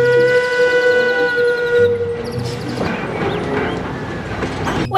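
A Thomas toy train's whistle-like tone holds steady for two seconds, then gives way to rattling, clattering wheel and motor noise close by.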